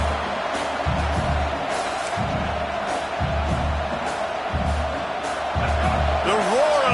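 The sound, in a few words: roar of crowd at a Sooners vs Tigers football game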